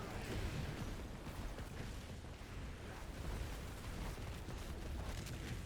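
Explosions in the action game Diablo IV during a hardcore Druid run, heard as a dense, continuous rumbling barrage of blasts and bursts that stays loud and steady throughout with no talking.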